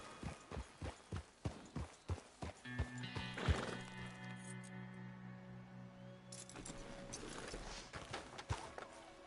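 Horse hooves clip-clop in steady rhythm in Red Dead Redemption, close and distinct, with a horse whinnying midway before the hoofbeats resume.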